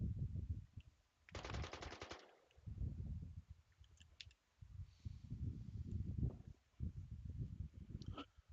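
Machine gun fire in a video game, one rapid rattling burst of about a second amid recurring low engine rumble and mechanical thuds, fairly close and loud against a quiet background.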